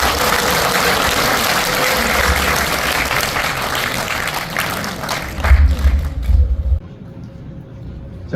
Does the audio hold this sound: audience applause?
yes